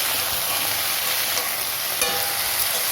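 Vegetables for shukto sizzle and fry in a pan while being stirred, a steady close hiss with occasional scraping clicks.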